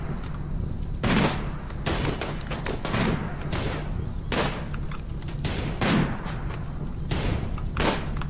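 Heavy SMG bursts during a raid in the game Rimworld, sounding as repeated short volleys of gunfire spaced roughly a second apart, moderately loud, with thuds mixed in and no talking.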